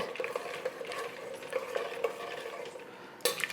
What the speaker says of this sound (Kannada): ಎಣ್ಣೆ ಕಾದ ತಕ್ಷಣ ಸಾಸಿವೆ ಹಾಕ್ಕೊಳ್ಳೋಣ. ಸಾಸಿವೆ ಒಂದು 2 ಸ್ಪೂನು ಸಾಸಿವೆ ಹಾಕಿದ್ದೀನಿ. ಸಾಸಿವೆ ಚೆನ್ನಾಗಿ ಫ್ರೈ ಆಗಲಿ.